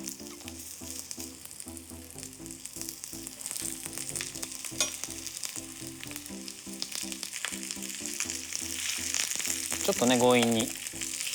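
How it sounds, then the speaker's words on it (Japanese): Pork steak sautéing in garlic oil in a skillet, a steady close sizzle running throughout with a brief hiss swell near the end, while a person talks over the cooking. "このニンニクオイルでお肉をソテーしていく。"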